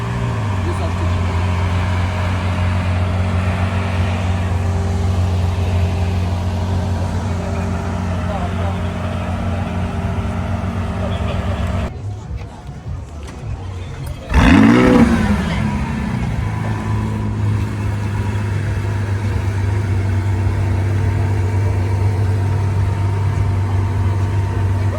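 An all-carbon supercar in Cannes: its engine idles with a low, steady rumble, drops briefly, then gives one sharp rev before settling back to idle, with people talking nearby.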